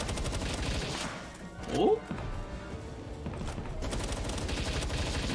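Gunfire in the game Palworld comes as a short burst of shots under ongoing game noise, while a player's brief voice is heard in the middle.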